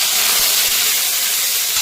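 Onion and green chillies hitting hot tempering oil with dried red chillies in a pan while making brinjal curry, giving a steady, loud, close hiss and crackle that runs without a break.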